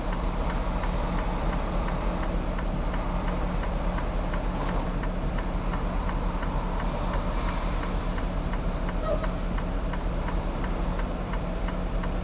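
Heavy truck air brakes setting at a loading dock, a low diesel idle rumbling steadily throughout with a brief sharp hiss burst partway through, fairly near.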